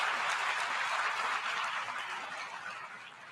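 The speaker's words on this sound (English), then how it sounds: "Fake claps, fake applause." Applause from the audience at a Biden speech at the United Nations, steady dense clapping that fills the hall at a loud, even level and slowly fades toward the end, with no voices over it.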